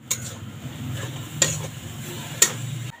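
Grated coconut and date-palm jaggery are roasted in a wok, with soft, steady scraping as a spatula stirs, a light sizzle and a couple of sharp metal clicks against the pan, close and alone.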